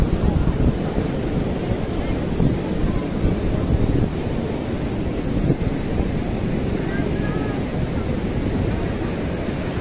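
Ocean waves wash onto the beach at Puri, Odisha, in a steady, loud, continuous roar. Heavy wind buffets the microphone, and faint voices can be heard under it.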